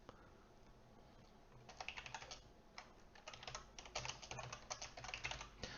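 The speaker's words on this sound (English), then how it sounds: "instead of actually typing out the type" Bursts of typing on a computer keyboard during a Flutter coding session, with quick uneven clusters of key clicks and brief pauses. The sound is close but fairly quiet, and no one speaks.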